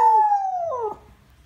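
A Siberian Husky howls once, a close, loud, wavering tonal howl that slides downward in pitch and breaks off after about a second, with no talking.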